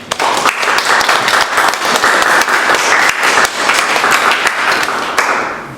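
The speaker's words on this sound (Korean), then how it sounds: "큰 박수로 맞이해주십시오" A lecture audience gathered in a former department store building gives loud, sustained applause, dense continuous clapping that carries on steadily before tapering off at the end.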